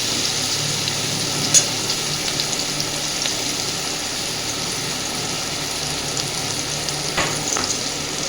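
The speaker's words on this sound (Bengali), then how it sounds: "খুব সুন্দরভাবে সবকিছুকে মিশিয়ে দিচ্ছে।" A spoon stirs salt and spices into oil in a frying pan, making a steady close sizzle with soft scraping as a taro stolon and egg dish is cooked.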